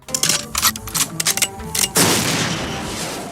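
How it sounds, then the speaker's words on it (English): Rapid bursts of gunfire from a shootout scene in a Mexican action movie, loud clustered shots in quick irregular volleys, then a heavy blast that decays into a long rumbling tail. "this is all out, balls out, cartoonishly overpowered gunplay"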